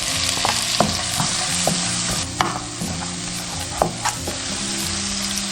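Green peppers and onions sizzle in a hot oiled wok with scallion, garlic and dried chili, a steady loud frying hiss broken by clinks and scrapes of stirring.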